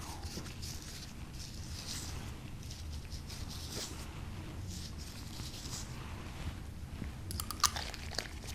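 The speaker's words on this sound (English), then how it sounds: "Applying some gentle exfoliation with the lice comb." A lice comb dragged across the scalp during an ASMR scalp exam, soft close scratchy scraping in repeated strokes, quiet and continuous with a few sharper crackles near the end.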